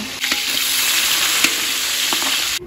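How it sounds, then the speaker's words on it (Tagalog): Steady, loud sizzling of carrots and potatoes frying in hot oil in a pan for kaldereta, with a few stirring clinks, continuous until it stops abruptly near the end. "Nagpiprito naman ako ng carrots and patatas para sa kaldereta."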